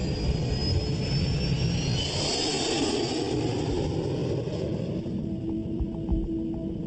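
Jet engines of a China Airlines airliner roar steadily through the takeoff run, a loud continuous broadband rush with a high whine on top that eases slightly toward the end.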